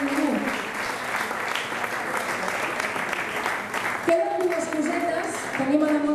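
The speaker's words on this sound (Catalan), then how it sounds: "Un aplaudiment per la Fina." Festival crowd applauding during the Sant Roc celebrations, a steady wash of clapping lasting throughout, with a speaker's voice talking over it toward the end.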